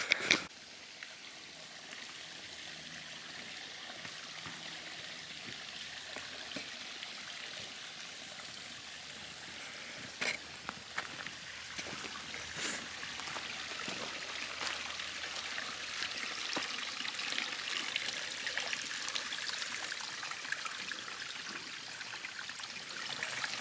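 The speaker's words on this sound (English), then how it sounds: "The river runs red." A stream running red with iron-rich water flows steadily along a rocky backpacking trail, a continuous broad rushing hiss with occasional clicks and knocks, and no voices.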